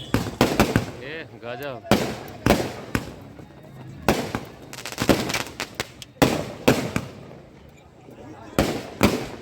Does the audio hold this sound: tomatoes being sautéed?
no